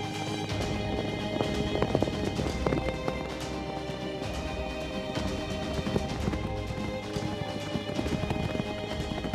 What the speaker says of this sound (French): Quant aux chevaux Camargue, ils vont continuer de galoper